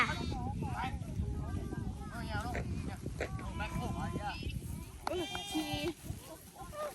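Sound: flock of sheep bleating while herded by dog

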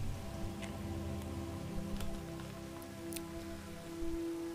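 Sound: rain falling in the video game Skyrim

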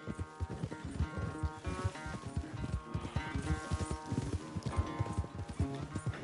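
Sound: horse galloping in video game Red Dead Redemption 2

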